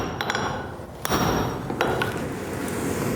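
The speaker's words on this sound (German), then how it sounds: "kommt der Kehlhammer oder Setzhammer zum Einsatz" A hammer strikes metal in sharp, ringing blows while a Celtic-style scythe blade is forged with a Kehlhammer or Setzhammer, a replica of an archaeological find. Several irregular clinks stand out over a steady background hiss.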